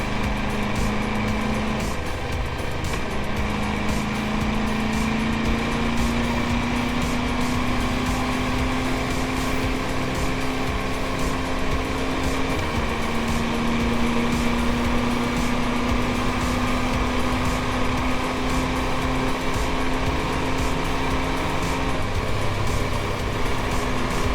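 A motorcycle engine drones steadily while riding at road speed on the way to Great Yarmouth, a continuous hum with a slowly rising pitch, mixed with wind and road noise and no talk.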